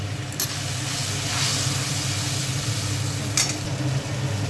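Green peas hiss and sizzle in a hot kadai with turmeric, Kashmiri chilli powder and coriander powder, a steady close-up crackle with a couple of brief sharper clinks.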